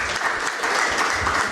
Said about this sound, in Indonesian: Kita kasih tepuk tangan untuk Pak Indra Adil